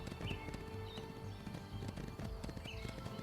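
Horse hooves clip-clop steadily in a video game, a brisk rhythmic trot heard up close over a busy background of ambient game sound.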